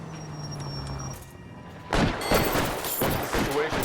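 Gunshots in a hold-up shootout in the L.A. Noire video game. After a quieter stretch, a loud cluster of rapid shots breaks out and keeps going, some of them close and sharp.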